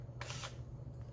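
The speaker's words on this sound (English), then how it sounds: "listen to the shutter, it's instantaneous" A film camera's shutter fires in a quick, soft mechanical click-clack burst of under half a second, then a fainter click follows, in a quiet room.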